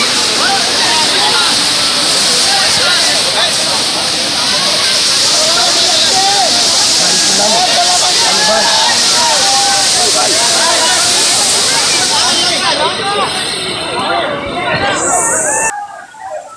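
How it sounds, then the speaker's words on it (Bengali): A waterfall in Chittagong roars in a steady, loud, unbroken wash from start to finish, with voices mixed faintly into it before it cuts off near the end. "এই দেখুন সেই ঝর্ণা"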